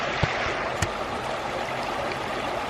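A creek flows with a steady, broad rushing wash, continuous and fairly close, broken by a couple of brief sharp knocks near the start.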